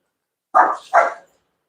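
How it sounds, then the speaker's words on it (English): Two quick, sharp dog barks close by, one right after the other, followed by silence. "The dogs are playing a little rough."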